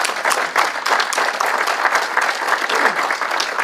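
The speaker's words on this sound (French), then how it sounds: "On peut les applaudir?" Audience applause fills a church worship gathering, a steady dense clapping from many hands sustained throughout at fairly loud level, with no speech over it.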